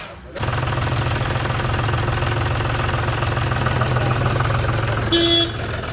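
A John Deere tractor's diesel engine starts up and then runs at a steady, close, knocking idle for several seconds, with a faint brief toot near the end.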